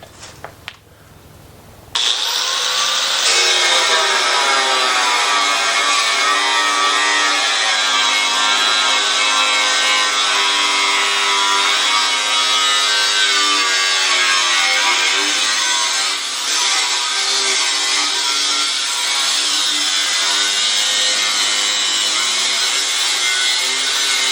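A power saw cutting a replacement crash beam part for a C5 Corvette, a loud continuous high-pitched cutting whine that holds steady for over twenty seconds after a brief start.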